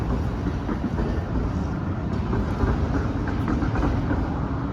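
Train pulling into Dnipro railway station, a steady loud rumble of rolling wagons with faint clicking of wheels on rails, no talking.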